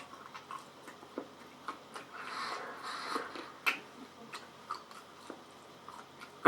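Pork is chewed close to the mouth in irregular soft crunching bites and wet clicks, fairly quiet with brief pauses between chews and a sharper noise at the very end.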